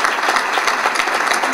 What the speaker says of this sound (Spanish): Un aplauso a nuestros platas.